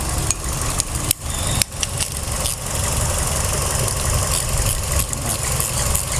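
A car engine idles steadily throughout a routine periodic service, a continuous mid-low rumble with a few brief clicks and knocks from work nearby, with no talk.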